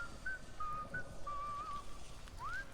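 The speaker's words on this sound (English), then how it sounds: "You keep whistling." A character in the video game Atomfall whistles a slow, wavering tune in Casterfell Woods, several thin sustained notes with a rising slide at the end, over faint ambient game background.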